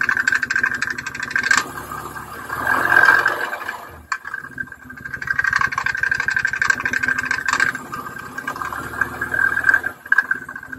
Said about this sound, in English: I started it up to see if the clutch is going to work.